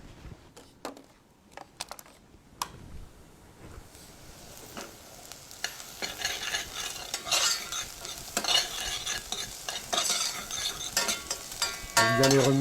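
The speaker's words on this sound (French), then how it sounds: "Bien les remuer pour pas qu'ils n'accrochent au fond." Pieces of capon are stirred in a pan with butter, scraping and clinking of a utensil over a soft sizzle that grows louder, alone and fairly close.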